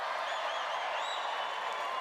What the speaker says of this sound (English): Gives a cheer.